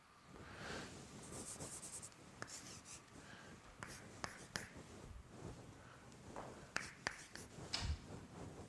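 Chalk or marker writing on a board during a mathematics lecture, with soft scratchy strokes and sharp taps at irregular intervals, fairly quiet in a reverberant room with no talking.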